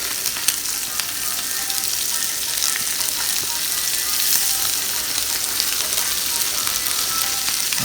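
Bacon and French toast fry on a griddle with a steady, bright sizzle and crackle, even and continuous, close up with no talking.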